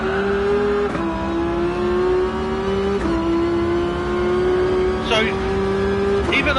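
Gran Turismo Sport's Tomahawk race car drones steadily at high revs, its engine tone dipping with brief shifts, holding a sustained loud note throughout under a speaking voice.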